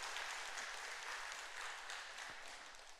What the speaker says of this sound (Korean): 우리 위해서 모든 분들을 위해서 한번 박수 한번 드릴까요?